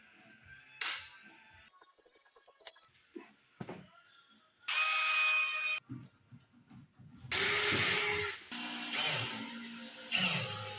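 A screw is driven out of wood while gunwales are installed on a Michalak AF4 Grande Skiff 20 boat. Several loud, close power-driver whirs come in bursts, with clunks and handling knocks between them.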